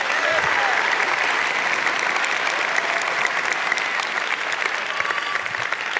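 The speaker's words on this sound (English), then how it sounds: "Could you guys give these gentlemen a round of applause?" Church congregation at an Easter service breaks into steady, loud applause that fills the space evenly throughout, a dense wash of many hands with no voices standing out.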